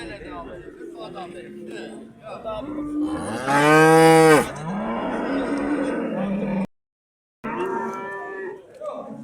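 Cattle mooing at a livestock market in Şebinkarahisar, one long loud close moo in the middle with lower calls around it and a brief gap, heard amid background chatter.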